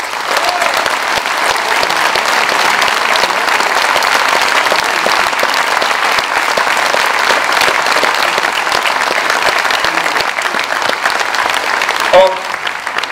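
Loud, sustained applause fills a hall at the 3rd Congress of Les Patriotes in Arras, France, honouring the volunteers, a dense, even roar of many hands from a large crowd throughout.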